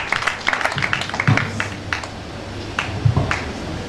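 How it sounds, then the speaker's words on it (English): An audience claps for a speaker taking the stage at a church ministerial day, scattered sharp handclaps in an uneven rhythm, close and moderately loud, thinning out partway through. "Let's give him a round of applause."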